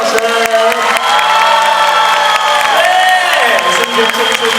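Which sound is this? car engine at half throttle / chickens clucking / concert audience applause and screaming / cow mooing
concert audience applause and screaming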